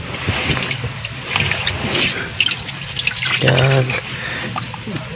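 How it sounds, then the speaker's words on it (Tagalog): Water trickles and dribbles out through a hole in a beached wooden pump boat tilted on its side by the sea after heavy overnight rain, a steady close-up flow under someone talking. "iangat natin konti kasi para makalabas yung tubig"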